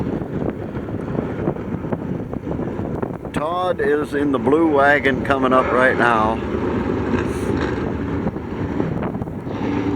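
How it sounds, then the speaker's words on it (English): Heavy wind buffeting the microphone in constant gusty rumbles at a gasser car reunion in Thompson, Ohio, with someone talking over it partway through. "it's really windy here"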